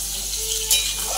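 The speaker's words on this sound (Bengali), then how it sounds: "আলুটা ভালো করে একটু ভেজে নিই" Potatoes fry in a pan for a soybean and egg curry, giving a soft, steady sizzle with a brief scrape or clink of a utensil partway through.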